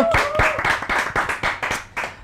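A few people clap in a podcast studio, close and fairly loud, a short run of uneven claps with brief gaps, plus a faint voice at the start.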